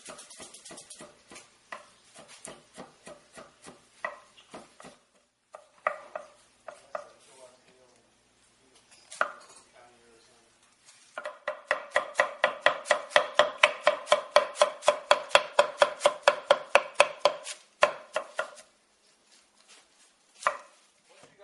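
A knife chops cabbage finely on a board for taco topping. Uneven taps come first, then a fast run of crisp, regular strokes, then scattered cuts at the end. No one speaks.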